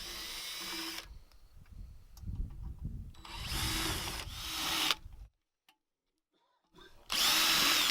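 A power drill unscrews the screws holding a drill guide to a box during a 2018 security lid installation, with several loud whirring bursts separated by pauses and a brief silence.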